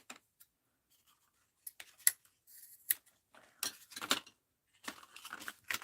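Scissors snip paper for a mixed-media spring art journal: scattered crisp cuts come in short bursts separated by quiet pauses, close up, with no talking.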